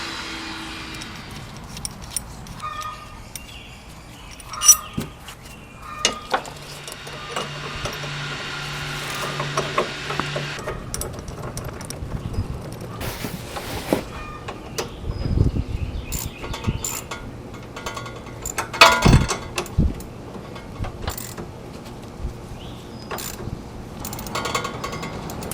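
A hand tool works a tie rod on a Toyota Corolla in a garage, producing scattered metallic clicks, ratcheting ticks and clunks at close range over a low background hum, irregular and without steady rhythm.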